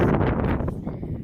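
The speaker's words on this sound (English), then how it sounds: "So it's really windy." Strong wind gusting across an open Appalachian Trail mountain ridge near Big Hump Mountain, a loud, steady roar buffeting the microphone for a moment with no talking.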